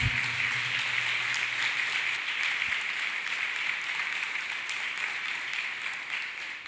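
Congregation clapping hands for Jesus Christ at a church deliverance service, a steady continuous applause throughout, moderately distant, with a brief low voice at the start.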